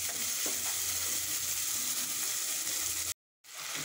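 Ginger and garlic paste with spices frying in oil for a cauliflower and egg curry, a steady dense sizzle with occasional stirring sounds, close and uninterrupted until it cuts out briefly near the end.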